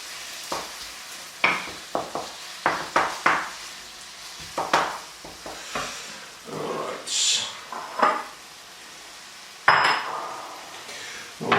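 Bacon and onions cooking in a pan, with a soft sizzle beneath repeated clatters and scrapes of a utensil stirring against the pan, the knocks coming in irregular bursts, some sharp and close.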